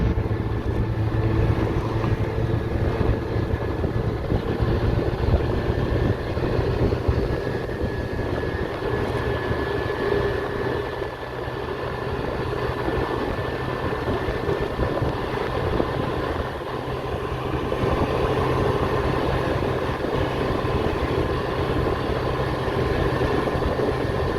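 A Honda Lead AF48 two-stroke scooter engine accelerating under way, a continuous buzzing drone that builds and holds, loud and close with wind rush, easing briefly midway before pulling on again.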